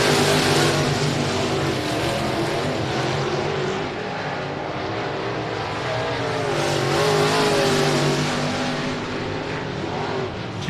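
Race cars lap at I-37 Speedway during the DTK Memorial Race, a loud continuous roar of several engines droning and swelling as the pack passes, with no talk over it.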